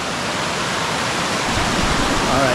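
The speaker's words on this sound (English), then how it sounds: "This is the Fakyol Vizes waterfall." Fátyol waterfall in the Szalajka valley, Hungary, roars as a steady, dense broadband rush of falling water, loud and close, swelling slightly toward the end with no talk over it.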